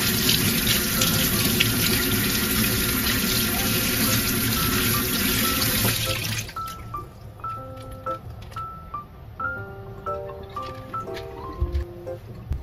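Corn washed under running tap water for a soup: a loud, steady gush of water fills the first six seconds, then stops and gives way to quieter splashing and clinking, with a low-frequency hum throughout.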